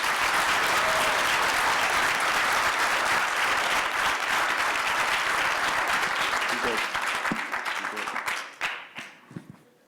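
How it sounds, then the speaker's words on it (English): Audience applause after a talk on afros, fades and razors fills the room, loud and dense for about eight seconds before thinning into scattered claps and fading out. "if we could just give him a round of applause"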